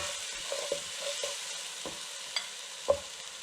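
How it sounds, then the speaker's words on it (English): Garlic sizzles gently in a hot pan for a Senegalese thieboudienne, with a steady soft frying hiss and several light clicks and scrapes of a utensil stirring. "Now we're going to add the garlic. Cook the garlic for about 30 seconds."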